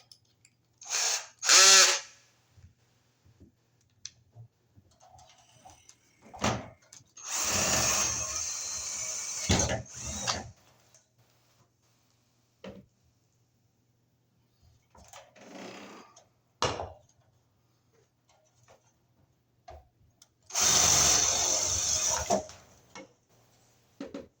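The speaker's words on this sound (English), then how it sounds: "now we'll drill our holes for our bigger screws to go up" A power drill whirs in several separate bursts while drilling screw holes in a surface-mount light fixture, some short and some lasting a few seconds, with quiet pauses and small clicks and handling noises between.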